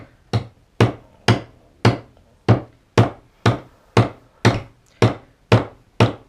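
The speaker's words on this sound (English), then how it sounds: "Slowly but surely, we're knocking the nails into it" Steady hammer blows drive nails into a wooden birdhouse, about a dozen sharp knocks at an even, unhurried rhythm, close and loud with no talk.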